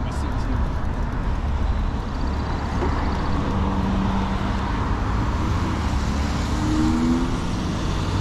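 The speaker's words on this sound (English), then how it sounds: "Cars are coming up to wait for them to go by." Cars roll past on a road beside a commuter on an e-bike, a steady low rumble of traffic with a couple of vehicles whooshing by nearby, constant and fairly loud under light background noise.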